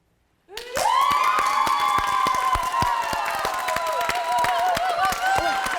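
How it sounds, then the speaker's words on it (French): Audience cheering and clapping loudly as if for a rock star, with shouts and whoops rising at once and sustained over dense rapid claps, and bright raised voices carrying through the whole stretch. "on va l'applaudir très fort. Comme si c'était une rock star."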